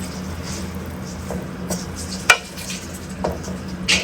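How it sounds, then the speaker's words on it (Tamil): Biryani ingredients being mixed in a pot, soft scraping and squishing under a low kitchen hum, with a few sharp clinks of a spoon against the metal. "எல்லாத்தையும் அப்படியே மிக்ஸ் பண்ணுவோம்"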